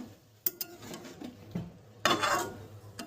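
A few scrapes and knocks of a spoon against a kadhai, then a brief rustling toss of green peas and cauliflower, quiet and close.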